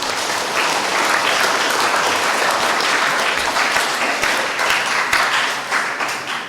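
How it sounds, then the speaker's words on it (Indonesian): Church congregation at a first communion and adult baptism Mass applauding the children, a steady wash of many hands clapping, fairly loud and close, sustained throughout before tapering slightly at the end. "Untuk itu mari tepuk tangan dulu untuk anak cucu kita."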